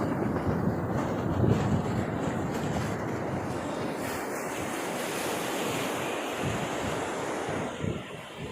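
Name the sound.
sea waves crashing strongly on the shore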